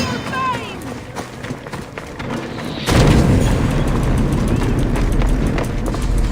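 Bomb blast in Assassin's Creed Odyssey: after several seconds of game sounds and a voice, a sudden loud explosion erupts and keeps rumbling heavily to the end.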